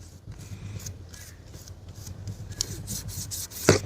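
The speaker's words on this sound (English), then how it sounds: "get back to scrubbing here." Brush scrubbing a 1901 Singer sewing machine during clean-up, with close, rhythmic rubbing and rasping strokes that grow louder toward the end, ending in a sharp knock.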